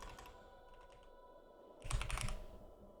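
Keys clatter on a computer keyboard, light scattered taps at first and then a brief, louder burst of rapid typing near the end.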